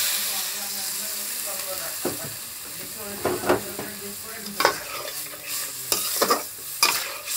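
A spice paste for a dried fish dish bubbles and sizzles after a splash of water, while a spatula scrapes through it in sharp, irregular strokes over the steady steamy hiss.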